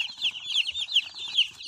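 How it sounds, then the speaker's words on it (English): Chickens newly arrived in boxes clucking and squawking loudly in quick repeated bursts close by, a busy overlapping chorus with no talk. "So these chickens are just shouting."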